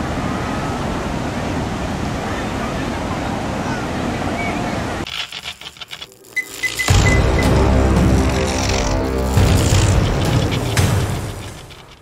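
Steady roar of surf and wind hiss at Parangtritis Beach, Yogyakarta, for several seconds, then a sudden drop and a louder rumbling, crashing rush of waves close to the microphone.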